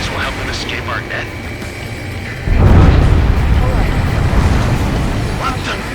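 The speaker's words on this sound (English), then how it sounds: "A huge explosion just went off underwater." A huge underwater explosion in the Ace Combat 7 video game erupts midway as a sudden deep, rumbling boom that swells and lingers over a steady engine drone, loud and close.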